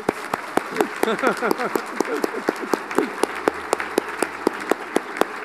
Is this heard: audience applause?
yes